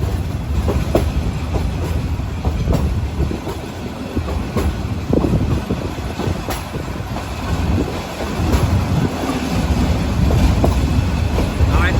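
Steady rumble of a train rolling along the rails with rhythmic clattering and occasional metallic squeals, continuous and close throughout.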